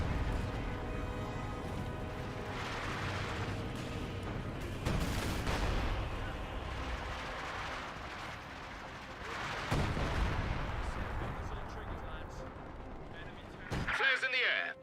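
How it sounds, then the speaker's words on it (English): Artillery battery salvos boom repeatedly in the Company of Heroes 2 war game, heavy rumbling blasts rolling one after another under ongoing voice chat from players. "Artillery battery firing flares now."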